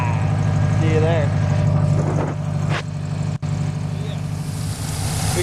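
A Subaru WRX turbo engine idles close by, a steady low rumbling drone that holds evenly for the whole stretch with only a brief dip near the middle.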